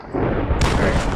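Guns firing in a Minecraft Hunger Games match on a multiplayer server, a dense burst of loud, booming shots packed into a second, harsh and close.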